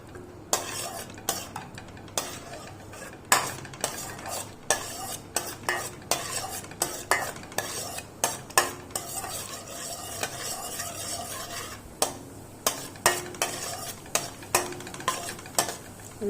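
Cashews frying in ghee in a pan for bread halwa, with a constant soft sizzle under repeated sharp scrapes and clinks of a metal spoon stirring against the pan, close and fairly loud.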